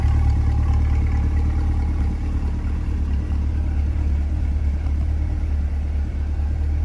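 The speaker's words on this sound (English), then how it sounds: "Nice rumble to the exhaust." A low, steady engine rumble from a 2020 Chevrolet Corvette Coupe Z51 idling nearby, deep and continuous with a faint throaty exhaust burble and no voices.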